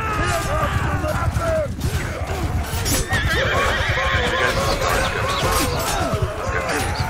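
Horses neigh and whinny over thudding hooves and clashing combat in a Mount & Blade Bannerlord battle between Aserai armies, a dense, loud, continuous din with voices under it.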